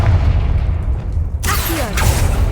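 Confringo blasting spell going off in the Hogwarts Legacy video game, a low rumbling game ambience suddenly broken by a loud, bright bursting explosion with a crackling tail.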